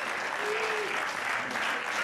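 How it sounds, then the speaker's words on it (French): Audience applauding the performer Maggy Bolle: steady, dense clapping from a crowd that fills the whole stretch, with a brief voice-like tone rising out of the noise early on. "Maggie Boy, vous pouvez l'applaudir."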